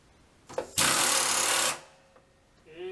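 Power draw bar on a milling machine running in a home shop, a loud, steady mechanical whir lasting about a second after a sharp clunk, followed by quieter clicks and a rising tail of noise.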